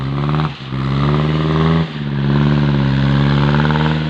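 A farm tractor stuck in sticky clay mud in a rice field revs hard and steadily, its loud engine roar echoing back from a eucalyptus grove, with brief dips in between.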